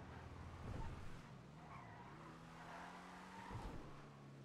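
Karin Hotring Everon race car in GTA Online skidding with brakes locked, a drawn-out tire squeal sliding over a low engine hum, moderately loud with no talking.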